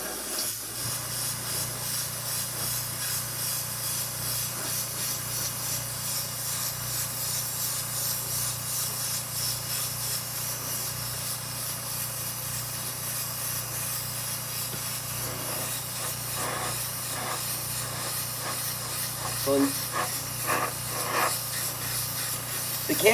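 Thin coats of clear Kreatex candy paint are sprayed in a steady, continuous airy hiss that runs unbroken throughout, with a few faint clicks and taps near the end.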